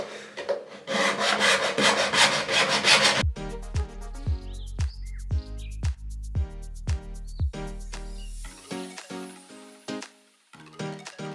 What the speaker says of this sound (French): je vais faire la lame de scie parce que j'ai l'habitude avec la lame de scie